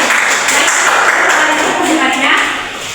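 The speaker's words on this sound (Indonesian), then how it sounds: "beri tepuk tangan dulu untuk dia" Indonesian classroom students clapping for a classmate, a loud, close burst of many hands mixed with chatter and shuffling, tapering off toward the end.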